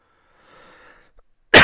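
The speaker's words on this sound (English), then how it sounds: "apologize for coughing so much," A single short, sharp cough from a person with a sore throat bursts out at the end after near silence with a faint murmur.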